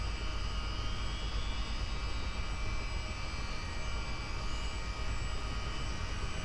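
A Chinook helicopter's engine spins up in the flight simulator MSFS 2024, giving a steady, broad turbine roar that holds at a constant level throughout, with no voices.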